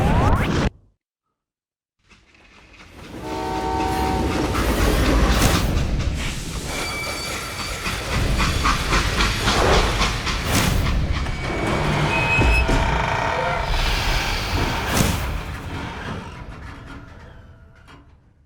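A rumbling, rolling freight train in the video game Call of Juarez: Gunslinger, with metallic clanks and whooshing passes, continuous and fairly loud after a brief silence at the start.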